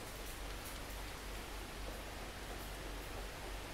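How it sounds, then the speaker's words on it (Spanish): Rain falling inside a zoo butterfly house, a steady, dense hiss of drops on surfaces, soft and even throughout with no voices. "¡Ya está lloviendo!"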